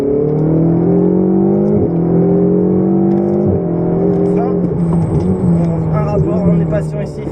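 Ferrari 488 GTB accelerating on the Dreux race circuit, its engine note climbing through gear changes with brief dips between, heard loud from inside the car while someone talks over it.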